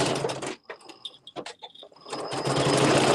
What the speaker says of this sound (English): Little back stitch